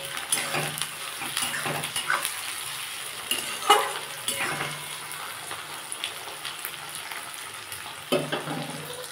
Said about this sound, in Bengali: আমার পেঁয়াজ টমেটো সব ভাজা হয়ে গেছে